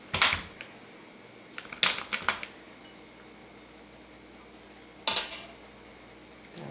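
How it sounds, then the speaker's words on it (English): Hot relish being ladled into a glass jar: sharp clinks of the ladle against glass come in short clusters, with quiet scraping and a faint hum between them. "I'm just going to ladle this into the hot jar"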